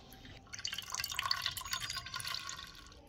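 Water dripping steadily from yogurt being strained for a cake, a quick run of soft, close drips that patter for a few seconds in a quiet room.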